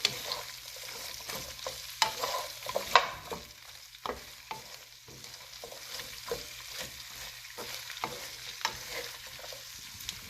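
Szechuan cabbage stir-frying in a pan, a soft, faint hiss broken by regular scraping pulses of tossing, over a low steady hum.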